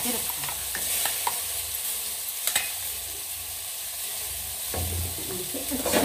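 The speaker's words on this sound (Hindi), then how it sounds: "अब हम इसमें ये सारा मिक्सचर डाल देंगे।" Ground spice mixture being stirred into shahi bharta frying in a pan after turmeric, with steady sizzling and scraping strokes, a few sharp utensil knocks, close and continuous with no talk.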